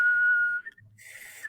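Someone attempts to whistle, producing a thin steady tone that breaks off into airy, faltering blowing before a brief breathy whistle returns at the end.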